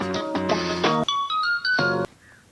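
A mobile phone ringtone plays loudly nearby, a bright electronic melody of quick stepped tones that stops abruptly after about two seconds.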